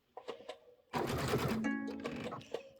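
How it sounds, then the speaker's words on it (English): A sewing machine stitching fabric in one short continuous burst of rapid needle chatter, near and fairly quiet, with a few light clicks before it starts. "I'm going to consistently sew about 1/8 of an inch"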